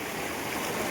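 A river stream flows with a steady, close rushing of water, an even broadband wash with no breaks or other sounds over it.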